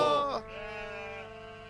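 A single sheep bleats close by, a loud wavering cry that drops to a thinner, sustained tail and fades out.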